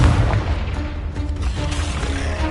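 A Confringo fire spell explodes in the video game Hogwarts Legacy, giving a loud, booming blast with a low rumble that rolls on for a couple of seconds amid other game noise.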